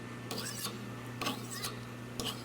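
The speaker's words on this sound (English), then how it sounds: "It'll file down a ball bearing pretty good." A carbide file rasping across a hardened steel ball bearing in three distinct strokes, each a sharp scraping burst over a steady background hum.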